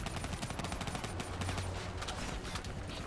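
Rapid, continuous gunfire in the Call of Duty Black Ops 3 campaign, a quick dense rattle of shots blending with battle noise at moderate volume.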